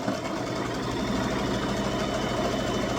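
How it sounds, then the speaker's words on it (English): A sewing machine stitching the flap of a toddler's crossbody purse, giving a steady, close, continuous motor whir with a fine rapid needle rhythm throughout. "I'm gonna start to sew. Make sure to back stitch."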